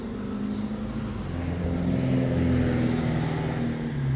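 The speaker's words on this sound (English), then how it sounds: "Excuse the noisy car" A car engine rumbles nearby in a garden setting, its low drone swelling and easing as the vehicle passes, with no talking.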